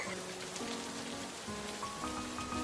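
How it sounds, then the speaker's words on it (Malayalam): Light rain falling outdoors, a faint, even patter of drops on surfaces that holds steady throughout, with soft tonal hums in the background and no speech. "എന്നാലും മഴ ഒക്കെ ഉണ്ട് കേട്ടോ."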